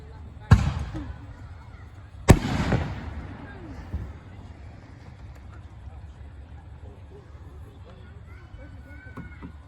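Fireworks explode outdoors in two sharp, loud booms close together near the start, followed by a smaller pop and fading crackle, with people chatting quietly throughout.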